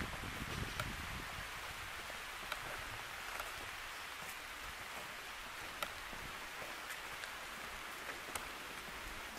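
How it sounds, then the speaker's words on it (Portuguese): Light drizzle falls in a preserved forest as a soft, constant hiss, with scattered faint drop ticks and a little leaf rustle throughout. "A chuva tá passando uma garoinha"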